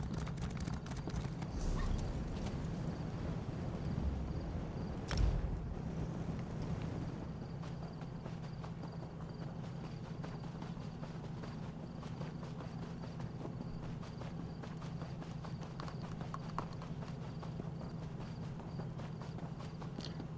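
Horse hooves clip-clop at a steady walking pace in the video game The Elder Scrolls Online, High Isle, a light rhythmic clatter over a low background hum, with one sharp knock partway through.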